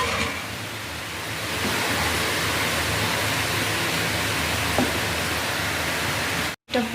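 Steady broadband bubbling hiss of curry boiling in a pot on a Bengali home stove, continuous and close, with a brief dropout near the end.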